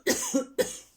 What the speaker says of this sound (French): En plus, je tousse.